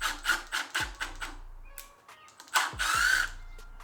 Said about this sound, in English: I'm gonna screw some screws in and out just to